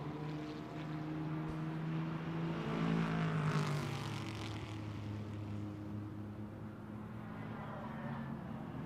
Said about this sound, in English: the ground-shaking, ear-splitting Chevrolet growls its way up towards the Variante Ascari into the chicane